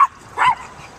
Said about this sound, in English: So she's barking everything.